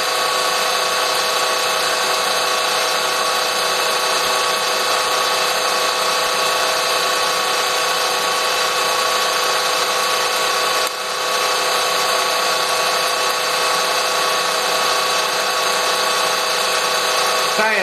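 Steady, loud machine whine of a drill press fitted with a tapping head running continuously, with a constant tonal hum and a brief dip near the end; no talking.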